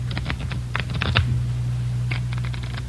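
A deck of playing cards shuffled in an old-time radio crime drama, heard as quick clusters of crisp riffling clicks over a steady low hum, in two bursts with a pause between.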